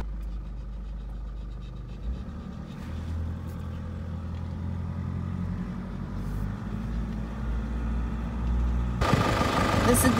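A car drives a paved road near Punta Cana airport, a steady low engine and tyre rumble carrying on for several seconds before a louder broadband swell at the end.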